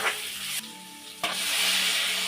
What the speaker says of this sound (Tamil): இஞ்சி பூண்டு பேஸ்ட்டு பச்சை வாசனை போகிற வதக்கி விட்டுக்கலாம்